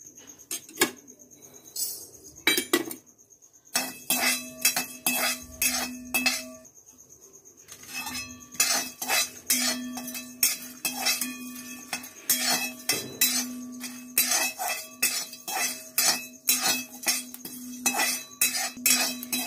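Dry-roasting spice ingredients in a pan, a metal spoon scraping and clinking against the pan in rhythmic bursts, loud and close, with brief pauses between rounds of stirring.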